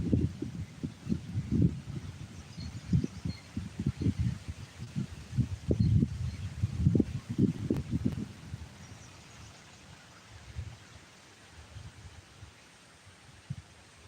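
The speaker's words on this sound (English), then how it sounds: "Can y'all hear this wind?" Wind gusts outdoors at a stealth campsite in Indiana, making a steady low rumbling buffet with irregular thumping pulses that grow strong mid-way and then ease off toward the end.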